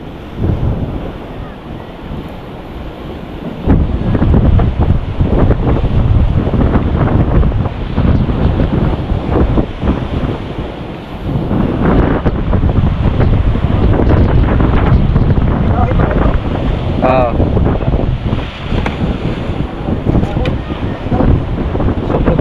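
A rough sea churns under a strong monsoon wind, with heavy wind buffeting on the microphone and a constant loud wash of surf that swells in intensity partway through, with no clear talk.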